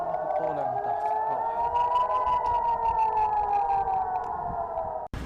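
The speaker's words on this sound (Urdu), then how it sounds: "کے مختلف علاقوں میں سائرن بج اٹھے۔" Air raid sirens wail across Israel after a missile strike, a loud, steady rising-and-falling warning tone that sustains for several seconds before cutting off abruptly near the end, with faint voices beneath.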